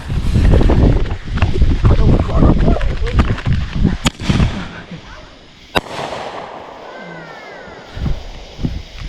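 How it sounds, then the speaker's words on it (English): A budget primary artillery shell firework launches with a thump, then bursts in sharp loud bangs followed by crackling, outdoors at a July 4 backyard show, with people talking excitedly around it. "Primary artillery shell"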